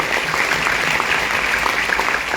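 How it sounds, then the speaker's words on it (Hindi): An audience at a DXN business motivational speech breaks into strong applause for a guru, a dense burst of clapping that holds at an even level through the short moment. "एक जोरदार ताली होना चाहिए गुरु के लिए"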